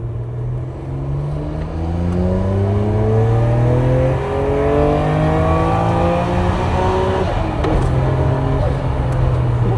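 Biturbo car with its original turbos and a remapped tune accelerating hard, engine note climbing through several gear changes in repeated rising sweeps, loud and close throughout with no talk.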